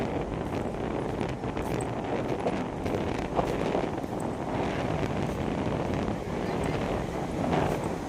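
Strong wind buffets the microphone over a constant rushing roar of surf close by, with faint voices mixed in.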